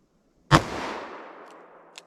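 A single sharp gunshot from a 10mm revolver firing Winchester Silvertip ammunition cracks loudly and then rings out in a long fading echo, with a faint click near the end.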